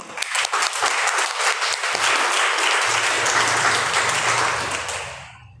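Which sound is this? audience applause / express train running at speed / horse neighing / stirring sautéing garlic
audience applause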